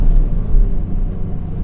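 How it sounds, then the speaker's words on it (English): BMW M Coupe with an S52 straight-six heard from inside the cabin during a rev-match downshift: a loud, steady low engine drone and rumble, with no blip clearly standing out in the brief moment. "So let's do a little practice rev match downshift for this"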